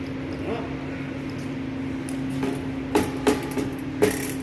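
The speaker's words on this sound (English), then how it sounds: "tap it till it's level." Hammer tapping around a new seal on a centrifugal pump to seat it level, a few sharp light taps close by over a steady mechanical hum, with no talking.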